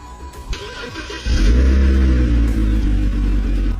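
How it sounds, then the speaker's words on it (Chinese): A flood-damaged BMW X5 being started: a few clicks and cranking, then the engine catches around a second in and settles into a loud, deep, rumbling idle close by. "咱們現在來打着火，關一下打火試一下，看看它能不能開走。"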